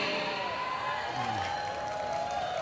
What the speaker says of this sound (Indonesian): Jangan tepuk tangan.